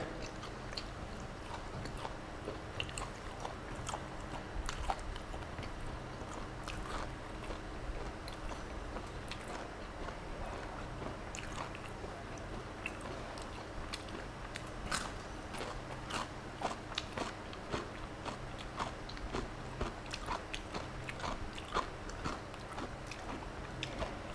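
Someone eats fried pork with rice and old-style chili paste at lunch, with continuous close, moist chewing and crunchy bites throughout and a low background hum underneath.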